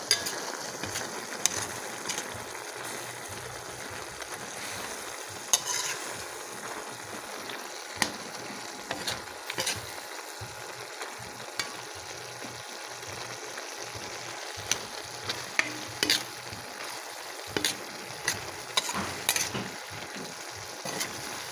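Pork igado frying in a pan, stirred with a utensil: a steady close sizzle broken by repeated sharp scraping clicks against the pan, with no voices.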